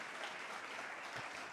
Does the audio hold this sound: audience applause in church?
yes